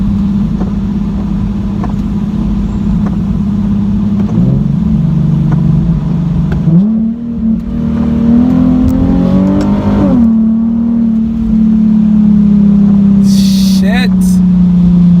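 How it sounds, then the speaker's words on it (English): A Nissan 370Z with its muffler deleted revs loudly and downshifts close by, its steady engine drone broken by sharp rev surges and pitch jumps as gears change, with a voice talking over it. "Let me try this manual mode so I can hit some of them downshifts."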